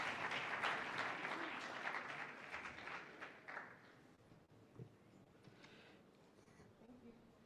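Faint applause from a conference audience for panel members at a hemispheric security event, strongest at first and fading after a few seconds into quiet room noise with a few scattered claps.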